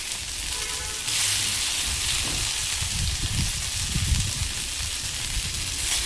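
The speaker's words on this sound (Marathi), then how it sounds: "आणि मग उरलेले टिक्क्या आपण अशाच भाजून घेऊया थोड्या थोड्या तेलावर." Corn tikki patties shallow-frying in a little oil, a steady close sizzle and hiss with soft crackles and pops throughout, growing a bit louder after the first second, no voices.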